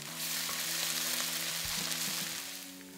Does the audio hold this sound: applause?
no